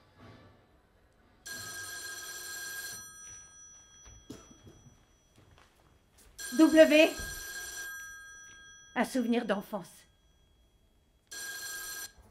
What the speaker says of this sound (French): Le téléphone sonne un soir.